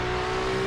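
A GT3 race car on a small circuit under throttle, a loud steady engine drone holding one high pitch close by through the brief moment, with no talk.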